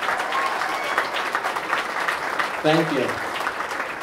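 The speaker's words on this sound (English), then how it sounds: "let's give these chamber member businesses and organizations a round of applause" A round of applause for chamber member businesses and organizations at the Redbank Chamber 2018 meeting rolls on steadily throughout, with a voice speaking briefly over it near the end.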